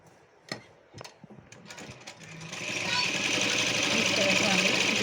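Starting with a few clicks and handling taps, a sewing machine then starts up and runs a steady, close mechanical whir, stitching together the strips of a can-can skirt; a voice is heard faintly near the start.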